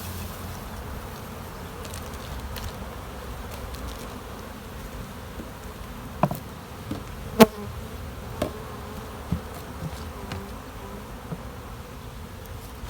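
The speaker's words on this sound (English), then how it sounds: "Got lots of bees here." Honey bees buzz steadily around an open queen-rearing hive, a constant low drone with a few sharper close passes by individual bees, and no talk.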